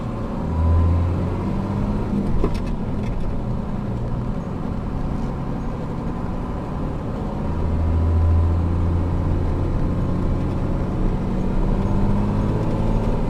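A 12-valve Cummins diesel engine with an AFC fuel pump, running at wide open throttle, gives a deep, steady rumble that swells in two heavy surges while a vehicle moves, loud and close, with no voices.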